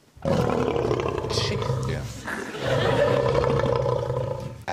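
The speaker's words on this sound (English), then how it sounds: "This is the sound of a lion." A recorded lion roars in two long, deep, rumbling bursts played loudly in a TV studio; a brief voice is heard right at the end.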